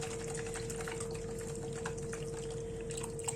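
Water is poured into a cooking pot while making an old-fashioned rabbit chasseur: a steady, continuous liquid flow close by, with a constant low hum underneath and no talking.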